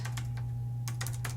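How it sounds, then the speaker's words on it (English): Quick bursts of keystrokes on a computer keyboard, a few short clusters of clicks separated by brief pauses, close and clear with no talk. "excuse my poor typing"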